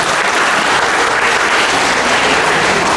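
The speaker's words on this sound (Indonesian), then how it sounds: "tepuk tangan buat anak muda kita" A crowd gives loud, steady applause for young speech contestants, dense continuous clapping filling the space without any talking.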